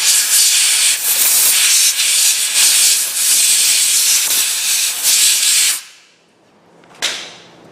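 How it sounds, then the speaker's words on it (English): A compressed air blow nozzle works around a bolt in the engine bay of a 2.4L Buick Verano: a loud, steady hiss of rushing air for about six seconds, a pause, then a shorter burst. "we're going to hit it a little bit with a blow nozzle"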